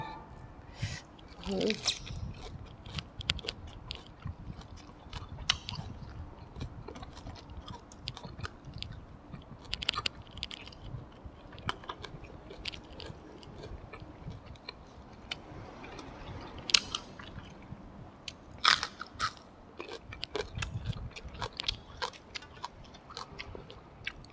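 Someone eats catfish larb with sticky rice and fresh vegetables up close, making soft, irregular chewing and crunching sounds with occasional clicks and faint speech between bites.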